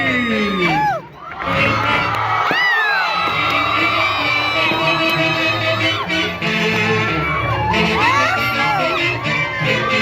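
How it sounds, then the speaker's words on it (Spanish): Crowd of a Shapish dance troupe from Molino Pata yelling a loud collective war cry at the close of their performance, with whoops and cheering mixed in, dense and close throughout. "¡El grito guerrero de los Chapis!"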